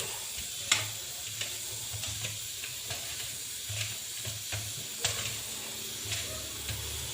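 Steady sizzling of fish frying in hot oil in an iron wok, with regular scraping and stirring clicks from a utensil against the wok throughout.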